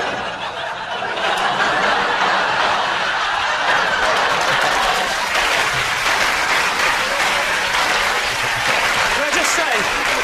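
A studio audience on a BBC comedy panel show claps loudly and continuously, mixed with chuckles and laughter, while voices talk underneath.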